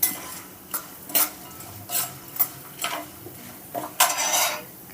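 Peanuts and cashews are fried in a pan for lemon rice and stirred. A spoon clinks and scrapes sharply against the metal in irregular strokes under a faint, low sizzle. It is close-up, with no talking.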